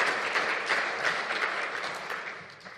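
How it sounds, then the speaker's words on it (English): A room applauds Ontarians and frontline workers at a pandemic-recovery briefing by the Ontario finance minister, with a short burst of full, even clapping that stays steady and then tapers slightly at the end. "acknowledge that with the round of applause for all the Ontarians for their sacrifice and all the frontline workers"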